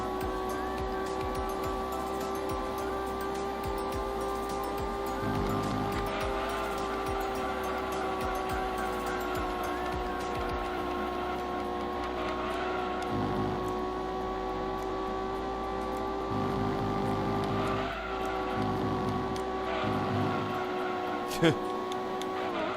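A car lapping a track in Gran Turismo 2 holds a steady, sustained engine drone with small pitch shifts through corners, while someone talks over it throughout.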